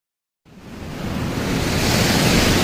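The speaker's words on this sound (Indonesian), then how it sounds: "Tiba-tiba anginnya menjadi sangat kencang" Strong wind in an animated illustration, a broad rushing whoosh that starts abruptly after silence and swells steadily louder, loud and close with no voices.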